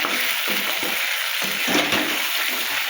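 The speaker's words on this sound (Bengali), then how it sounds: "এবার চিকেনটাই চিকেনটাই জল দিয়ে দেবো তেলও ছেড়ে গেছে" Water poured into sautéed chicken curry in a hot pan, producing a loud, steady hissing sizzle with bubbling pulses and occasional stirring, close up with no talking.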